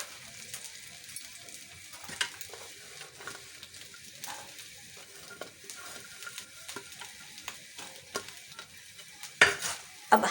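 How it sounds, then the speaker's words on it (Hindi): Green chillies sauté in a pan over fairly high heat, giving a soft, steady sizzle with frequent stirring scrapes and clinks close by. No one speaks. "अब हम अपनी हरी मिर्ची इसमें सौते करेंगे। ये हरी मिर्चें, तमाम हरी मिर्च को पहले सौते कर लेते हैं हल्की सी तेज़ आंच पर।"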